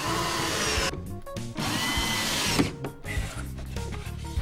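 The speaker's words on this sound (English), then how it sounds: "We pre-drill and countersink all of the frames to ensure that they don't split." A power drill whirs steadily, pausing briefly a couple of times as it pre-drills and countersinks wooden bookshelf frames, with the motor pitch shifting as it bites.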